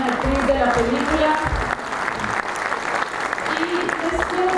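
Audience applause at a tribute event honoring film actors, a sustained wash of clapping from a crowd, steady and fairly loud, with voices and a low rumble mixed underneath.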